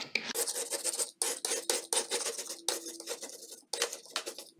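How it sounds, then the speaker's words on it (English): A scraper is pushed across an oven's glass door to strip burnt grease, making close, gritty rasping strokes in quick bursts separated by short pauses. "you can see the amount of grease that I actually use a scraper here just to remove it"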